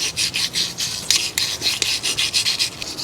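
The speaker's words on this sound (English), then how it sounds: "finally got some of these brushes to clean these calipers, slide pin recess" A brush scrubs rapidly back and forth in a Toyota RAV4 front brake caliper slide pin recess, a close, rhythmic raspy rubbing in even strokes of about four per second, with no talk.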